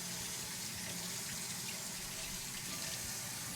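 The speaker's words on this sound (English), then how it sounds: "Just gonna give kind of a quick rinse." Fruit being rinsed under a running kitchen tap, a steady hiss of water pouring into a sink throughout, close and fairly quiet, with no talk.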